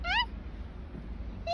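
A cat meows outdoors in snow, two short high-pitched meows, one at the start and one at the end, with quiet rustling between them.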